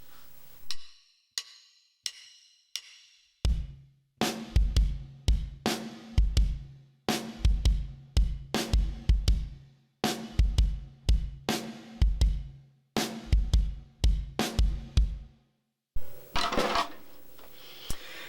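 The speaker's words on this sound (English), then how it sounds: "So these 2 bars between the kick and the snare sound like this." A drum kit plays a slow, sparse half-time groove of punchy kicks and snare hits with some cymbal, alone, ending in a washy crash.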